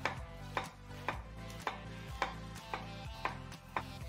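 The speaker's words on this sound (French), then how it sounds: "On coupe l'oignon rouge en deux et on le hache grossièrement." A knife chops a red onion steadily on a cutting board, sharp regular strokes about twice a second, close and fairly quiet, no voices.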